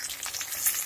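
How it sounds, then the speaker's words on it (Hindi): Onion frying with fenugreek, chilli and garlic paste in a hot oil tempering for a sweet-and-sour dansariya chutney, giving a brief, close, steady sizzle with no voices. "इन सबको अच्छे से मिलाएंगे और प्याज को भूरा होने तक पकाएंगे"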